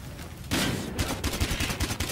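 A rapid burst of automatic gunfire in the video game Battlefield Hardline rattles out after a short lead-in, loud and continuous with repeated sharp cracks, no voices.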